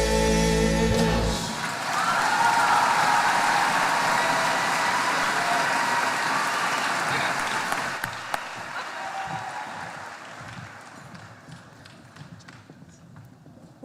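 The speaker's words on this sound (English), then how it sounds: "Let's give them one more round of applause." A large crowd applauds at a high school graduation celebration, the clapping loud and dense at first and then thinning and fading toward the end, with a few scattered claps and some background noise.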